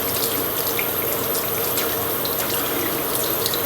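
A kitchen tap runs steadily into a sink, wetting sugar poinsettia flowers under the stream, a continuous close hiss and splash with no talking.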